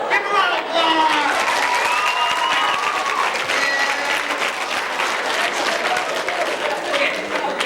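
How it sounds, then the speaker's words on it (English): Middle school students applauding at a conflict resolution assembly, loud sustained clapping from a large crowd with some cheering and voices mixed in, steady for several seconds. "Give a round of applause."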